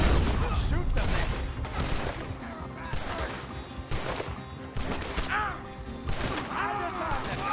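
Gunfire in the video game Red Dead Redemption 2 crackles in dense, overlapping bursts with clattering impacts throughout a chaotic chase, mixed with game music and effects, while characters shout over the action.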